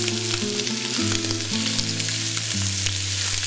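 Veal bones searing and browning in a hot pan, a loud constant sizzle with crackling pops, close up, under a steady low hum with no talk.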